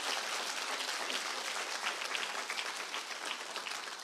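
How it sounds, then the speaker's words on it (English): Sustained applause from a large audience at a business presentation, steady dense clapping filling the whole stretch without pause. "can you please give him a big round of applause?"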